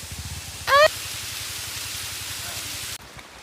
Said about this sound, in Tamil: இங்கே மழை வந்து இங்கே நின்றுங்கிறோம்